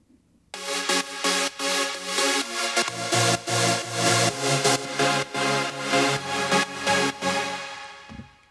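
A three-layer progressive house supersaw synth plays a bright, thick chord sequence of rhythmic stabs and sustained notes, stepping down from high to mid to low layers, loud and alone with no voices.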